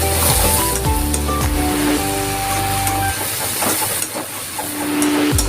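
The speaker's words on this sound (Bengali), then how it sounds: "এখন একটু নেড়ে চেড়ে নেব।" Packaged noodles frying and being stirred in a pan, a loud continuous sizzle and hiss with scraping strokes, plus some tonal background hum early on.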